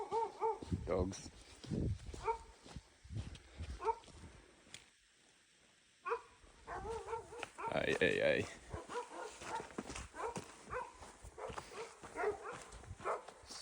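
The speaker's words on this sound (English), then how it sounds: "Dogs." Dogs barking and yipping at a moderate distance, several short bursts mixed in with people talking nearby.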